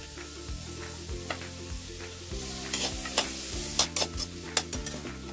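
Green chillies and onions sizzle in butter in a pan, a soft steady frying hiss with scraping and tapping stirring strokes growing busier toward the end, no voices over it.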